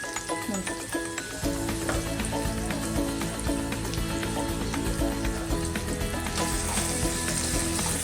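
A pinch of asafoetida hits hot oil for raw mango chutney, setting off a loud, steady, close-up sizzle that runs unbroken with scattered spitting pops.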